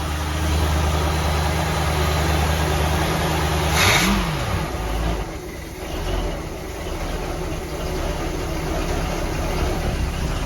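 The engine of a restored Sea Ray Sundancer boat runs during a lake test, a steady mid-pitched drone that briefly swells and dips around the middle before settling back to an even idle.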